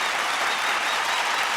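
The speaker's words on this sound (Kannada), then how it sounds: "ಇಂಚರಾಗೂ ಒಂದ್ ಚಪ್ಪಾಳೆ ಬರಲೇಬೇಕು." Studio audience applause on a Kannada comedy show stage, a dense, steady burst of many hands clapping at close range that fills the whole moment without a break.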